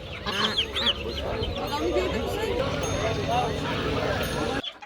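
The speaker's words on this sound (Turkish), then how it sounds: "Burada da ördekler var." Ducks and other fowl honk and quack continuously at a busy Adana poultry market, with people talking nearby throughout.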